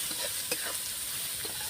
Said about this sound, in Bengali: দিয়ে আমি আবার একটু নাড়াচাড়া করে নেব